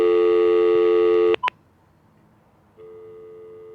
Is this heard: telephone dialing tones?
yes